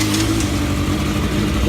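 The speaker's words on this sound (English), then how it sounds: "Bike runs again" Yamaha FZR motorcycle engine running steadily after repair work, a continuous close, loud mechanical drone with a low throbbing rumble and no talk over it.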